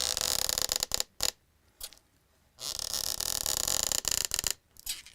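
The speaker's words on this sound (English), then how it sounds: "used to be able to turn the whole thing around and get a variety of different creaks" A foley prop turned on a surface to make varied creaks: harsh, raspy creaking in several bursts separated by short silences, close and fairly loud.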